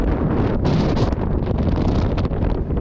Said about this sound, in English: I am like crouched to the ground because it is windy.